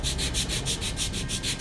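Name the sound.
sanding wood pieces on a sanding block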